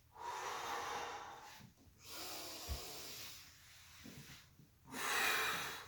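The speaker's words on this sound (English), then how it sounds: "Inhale." A person breathing deeply during a guided breathing exercise, with several long, hissy inhales and exhales separated by brief pauses, close and soft, with no talk over them.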